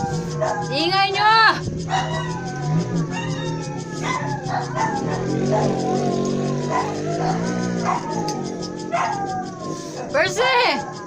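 Dogs barking and howling together, rising into wavering howls over a steady background hum, with short yips and barks scattered throughout and a person talking now and then.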